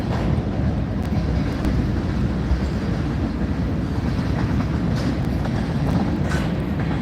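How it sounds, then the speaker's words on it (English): A train rolls past close by, a steady, loud low-frequency rumble of rail cars that holds for the whole stretch, with faint wind buffeting over the top. "a train's coming by"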